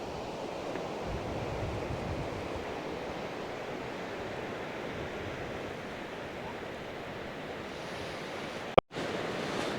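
Waves break on a North Sea beach at Sango Sands on Scotland's north coast as a steady, washing roar of surf with light wind, constant throughout, and a brief handling bump near the end.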